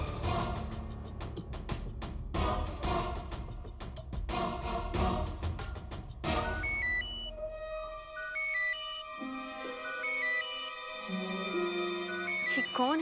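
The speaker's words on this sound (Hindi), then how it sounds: "ये कौन है जो हमें बार बार फोन करके परेशान कर रहा है?" A phone ringing in a Hindi TV drama scene, a repeating electronic ringtone melody that follows a busy stretch of louder mixed sound, standing clear and fairly prominent for several seconds.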